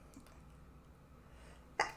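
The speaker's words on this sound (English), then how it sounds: "have to sneeze. Hold on." A single sharp sneeze bursts out near the end after a quiet stretch of low room noise.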